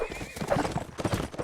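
Horse hooves clip-clop at a gallop with a neigh mixed in, part of a fast-paced multiplayer video game battle with flag capture, busy and layered for about a second and a half.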